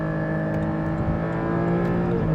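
A Porsche 718 GT4 engine holds a high, steady rev around 6,000 RPM in second gear at highway speed, a loud continuous harmonic drone heard from inside the car.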